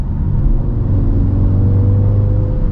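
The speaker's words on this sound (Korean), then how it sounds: "뒤에 있는 배기 소리가 들리네요" A Mini Countryman JCW engine in Green mode hums with a low, steady exhaust drone from behind, a continuous rumble without talk.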